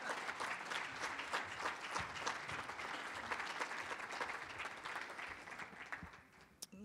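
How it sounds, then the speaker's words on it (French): A conference audience at a homelessness forum in Granby applauds steadily for several seconds, dense close clapping that thins out slightly toward the end. "Vous pouvez l'applaudir."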